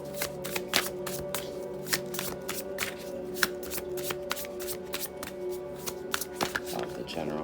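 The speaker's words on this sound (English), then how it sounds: "let's pull an oracle card" Oracle cards are shuffled by hand in a steady run of crisp riffles and flicks, close and quiet, over a faint constant hum in the room.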